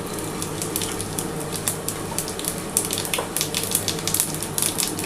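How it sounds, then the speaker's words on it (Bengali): Whole cumin seeds sizzle steadily in hot oil, giving a continuous close frying crackle with scattered sharp pops throughout. "আর দেখো, গোটা জিরে ফোড়ন দিলাম।"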